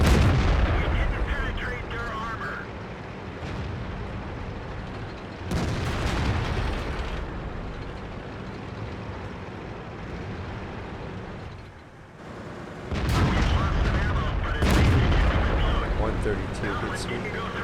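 Tank guns firing in a World of Tanks battle, with loud booming shots near 5.5 s and again around 13–15 s over a steady engine and battle rumble, while someone talks throughout.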